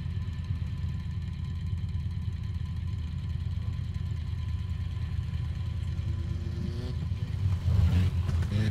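A car engine in the Need for Speed racing game idles with a low, steady hum, then swells into a louder rev near the end, alone without talk.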